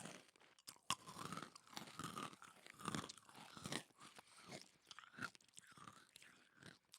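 Crunchy Skittles candy chewed close to the microphone, with repeated loud crisp crunches and bites in an irregular rhythm over several seconds, no talking.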